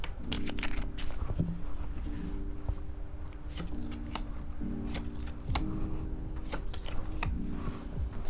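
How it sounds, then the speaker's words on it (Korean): Tarot cards are shuffled and drawn close by in a quiet room, with soft riffling and repeated crisp snaps and taps of cards being handled and laid down in an uneven rhythm, and no speech. "먼저 여러분의 현재 에너지, 상황의 카드부터 뽑아보도록 할게요."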